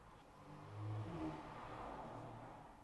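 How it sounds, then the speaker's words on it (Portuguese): A car speeds past outside, its engine tone swelling to a peak and then fading away into a low, distant hum, faint and heard from indoors without any voices. "Um pico de barulho, pessoas a passar de carro a alta velocidade"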